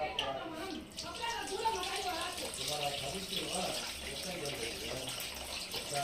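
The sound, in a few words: tamarind water poured into fish curry mixture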